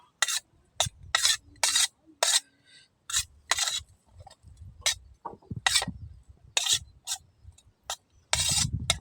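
Cooked rice is worked by hand with a golden spice paste until it turns orange, giving close, rhythmic wet squelching and rubbing strokes in quick, regular bursts with short pauses between them.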